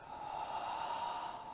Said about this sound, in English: Exhale here.